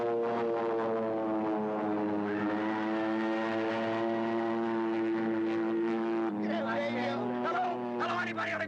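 A propeller airplane's engine drones steadily in flight in a 1960s comedy film scene, a loud continuous hum with a slight pitch shift partway through, while voices talk over it.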